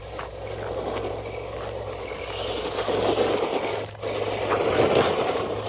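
A UDIRC 1611 1/16 scale RC car drives along a dirt road, a steady gritty scraping and whirring from tires and motor, close and fairly loud, swelling slightly in the second half with a brief dip.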